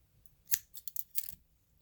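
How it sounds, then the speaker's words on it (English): Scissors snip through crochet yarn in two quick, close cuts, the second a short double snip, crisp against a quiet background. "now I'm gonna cut the yarn"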